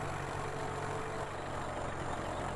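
A tractor in a farming video game runs at a steady idle, a continuous broadband engine drone with a low rumble that never changes, loud and unbroken throughout.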